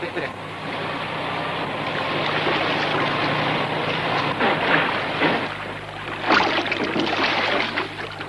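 A boat motor drones steadily with water noise, growing louder and rougher toward the end, while voices talk faintly underneath.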